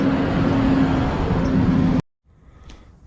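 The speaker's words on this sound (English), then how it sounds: "Get out of here, comes a truck." A truck rumbles loudly along a roadway near a scrap grill left out for pickup, its steady broad roar holding for two seconds before cutting off abruptly, leaving only faint traffic hiss.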